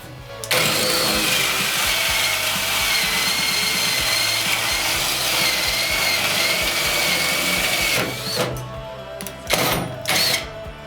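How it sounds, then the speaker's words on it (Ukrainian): A Tekhmann cordless drill bores with a 35 mm Forstner bit in second gear, giving a loud sustained motor whine under load that cuts off near the end, followed by a few short spin-ups. "давайте спочатку попробуємо на 35-му сверлі Форснера і вмикаю другу передачу"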